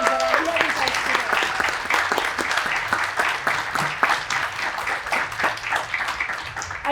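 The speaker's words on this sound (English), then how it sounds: "Please give an applause for these students that are here with us today." An audience at a pharmacists' event applauds pharmacy students, a full, continuous round of clapping heard close and loud, with a faint murmur of voices mixed underneath.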